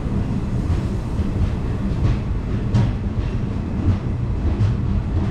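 Uzhavan Express passenger train running between Chennai and Thanjavur, a steady loud rumble with rhythmic wheel clatter heard from inside the carriage, no talk.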